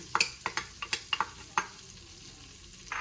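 Onions fry in butter in a pot with soft crackles and a quick series of spoon-like clinks and taps against a quiet background.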